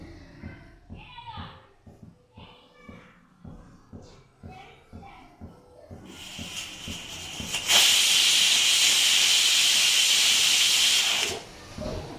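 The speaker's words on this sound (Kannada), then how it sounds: "ಎರಡು ವಿಷಿಲ್ ಕುಕ್ಕರ್ ಕೂಗಿಸ್ಕೊಳ್ಳೋಣ" After some clinking and faint chatter, a pressure cooker cooking lentils lets out a loud, steady steam hiss for about five seconds, then cuts off abruptly.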